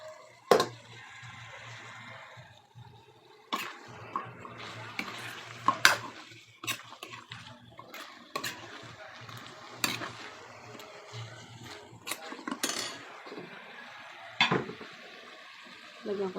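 Maya-maya fish going into a pan of sautéing onion, tomato and garlic, with a low sizzle under sharp clinks and scrapes of a utensil against the pan, intermittent and close, plus some faint talk.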